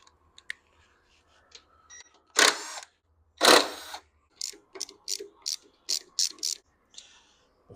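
A ratchet working bolts loose on a 1971 Honda CT70H, with scattered clicks, two loud rasping bursts and then a quick run of sharp ratcheting strokes close by.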